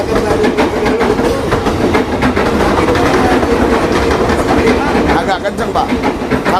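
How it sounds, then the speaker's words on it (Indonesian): A train rushes past nearby with steady loud rumbling and rhythmic clattering of the wheels over the rails, with people talking faintly underneath. "Kalau kereta lewat agak kenceng"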